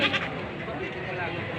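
Goats bleating close by at a livestock market, over a crowded outdoor background, with a person talking over the animal calls.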